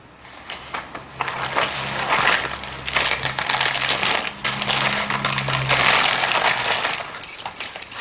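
A bunch of front door keys jingles continuously after being found in a handbag, giving a bright, close metallic rattle and clinking for several seconds with no talk.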